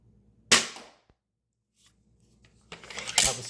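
An EK Archery RX Cobra Adder repeating crossbow is shot freehand, giving a sharp, close snap and twang followed by quiet, then a clattering rattle of the mechanism.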